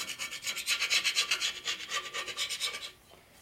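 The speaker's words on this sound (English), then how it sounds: "We come up with our real nice, dull, fine file. And just smooth it all up." A dull, fine metal file rasps in quick back-and-forth strokes across an aluminum Harley twin-cam engine case, about a dozen close, rhythmic scrapes that stop near the end.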